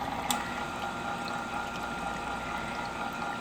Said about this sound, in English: you do need to make this in a mixer